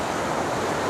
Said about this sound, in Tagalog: So, medyo maalon dito, guys